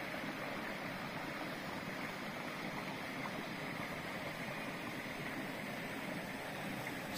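Clear forest stream running in deep woods, a steady, even wash of flowing water that stays constant and fairly faint throughout, with no voices over it.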